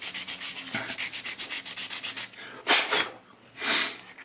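A sanding sponge rubs a 1/16 scale Tiger I model tank part in quick rhythmic back-and-forth strokes, close up, followed by two longer, louder swipes.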